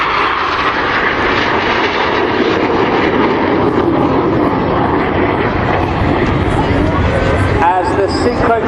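Red Arrows jets roar through a Cyclone formation at the Sunderland International Airshow, a loud continuous broad engine rumble, fairly close, with a commentator talking over it.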